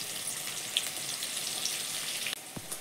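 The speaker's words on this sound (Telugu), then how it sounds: "ఆనియన్స్ మొత్తం ఇలా ఎర్రగా వేగాలండి" Onions frying in oil give a steady, bright sizzling hiss throughout, with a soft clunk near the end.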